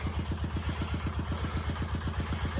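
A small walk-behind tractor engine runs while hilling potato rows, chugging in a fast, steady low-pitched rhythm with no talk over it.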